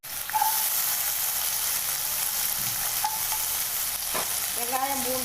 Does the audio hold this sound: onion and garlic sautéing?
yes